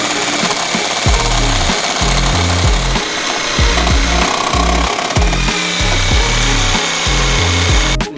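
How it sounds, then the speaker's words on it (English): Loud, continuous grinding of a power tool cutting through the rubber bushing at the top of a Gibson shock absorber, with a rough rhythmic pulsing low rumble running throughout, close and harsh. "Cut the bushing right at the top here."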